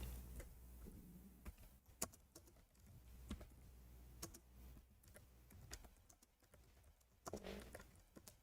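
Typing on a computer keyboard, very faint and close, with scattered irregular key clicks and a few sharper taps, no talking.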